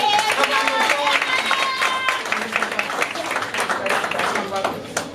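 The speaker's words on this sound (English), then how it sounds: "let's give them another round of applause" An audience at a youth organization event in Newark-Essex County gives a youth program member a full round of applause, steady dense clapping filling the room with voices and cheering mixed in.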